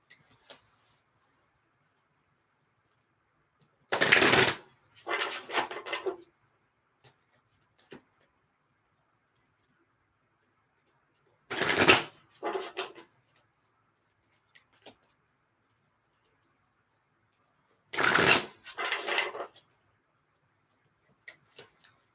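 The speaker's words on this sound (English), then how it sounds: "Okay, so keep shuffling here." Tarot cards are shuffled by hand in three separate bursts spaced several seconds apart, each a quick crisp riffle followed by a softer flutter, with near silence between.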